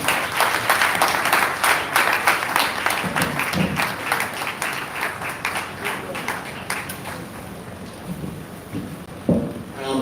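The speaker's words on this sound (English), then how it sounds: "I am pretty sure that clap was for me." Audience applause at a health information management professionals' week celebration in Lagos, a broad wash of clapping that slowly fades, with voices talking over it.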